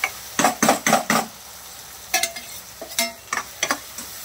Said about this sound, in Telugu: కారం కొంచెం వేగాక వేగనివ్వండి